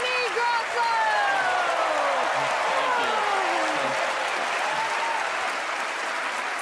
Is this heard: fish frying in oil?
no